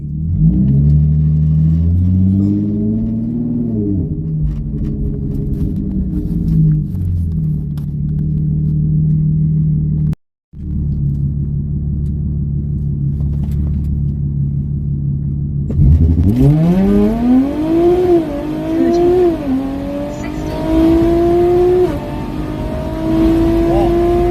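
An Audi A6 3.0T with a 90-80mm intake tube and 85mm throttle body accelerates hard on a quarter-mile run, its engine droning and climbing through gears with a brief break, then rising to a louder high-revving pull near the end.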